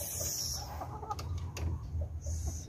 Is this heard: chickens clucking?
yes